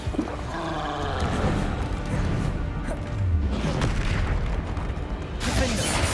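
Spell explosions from Bombarda and Confringo in the game Hogwarts Legacy, deep booms and crashing blasts amid dense combat noise, loud and continuous, with a voice calling out over the fighting.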